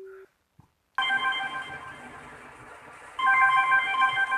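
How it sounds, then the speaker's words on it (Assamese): A phone rings with a bright, continuous electronic ringtone melody that starts abruptly after a short near-silence and grows louder partway through. "ফোনডাল লগাই দিছ ৰিং কৰি আছে চাচোন"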